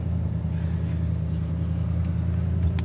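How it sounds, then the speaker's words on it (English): A car engine idles steadily with a deep, continuous low rumble, close and constant throughout, with no talking. "But the car sounds fine."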